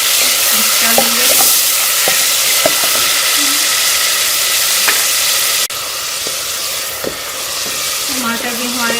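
Tomato paste being stirred into pumpkin leaves in a hot pan, with a steady loud sizzle and scraping stir strokes throughout, close and continuous, with no talking.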